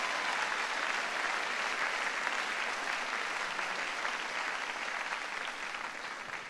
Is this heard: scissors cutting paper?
no